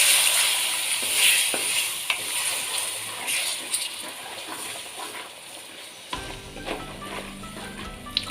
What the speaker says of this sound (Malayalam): നമുക്ക് ഇതിലേക്ക് 4 കുടംപുളി ചെറുതായി കീറിയിട്ട വെള്ളവും കൂടെ ഇതിലേക്ക് ഒഴിച്ചു കൊടുക്കാം.